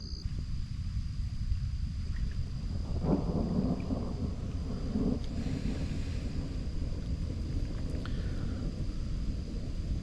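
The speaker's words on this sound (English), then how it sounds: "I think that storm's finally starting to roll through." Low rumbling thunder rolls under steady gusting wind by a riverbank, with buffeting on the microphone throughout and no voices.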